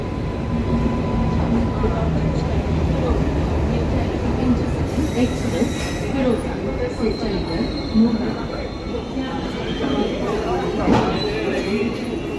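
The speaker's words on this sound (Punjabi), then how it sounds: "ਫਾਈਨਲੀ ਸਾਡੀ ਟ੍ਰੇਨ ਇੱਥੇ ਰੁਕ ਗਈ ਆ" The 22485 Intercity Express rolls to a halt at Ferozepur Cantt station, a dense, steady rumble of wheels and carriages with faint squeals, while voices murmur over it throughout.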